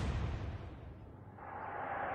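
A naval gun broadside from a cruiser in Atlantic Fleet's Battle of River Plate, a deep booming blast that rolls away into a long, fading rumble.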